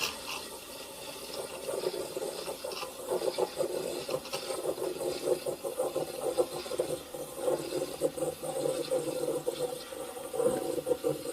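A DeLonghi Stilosa EC260BK steam wand aerating milk with its tip just below the surface, giving a continuous loud hissing, gurgling roar that wavers in intensity throughout.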